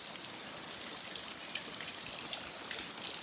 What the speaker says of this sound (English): I am out in the middle of this torrential downpour